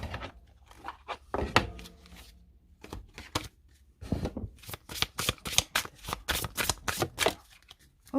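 Cessioli oracle cards being shuffled by hand in quick, crisp riffles and bursts of flicking card edges, close and fairly loud, growing busier toward the end.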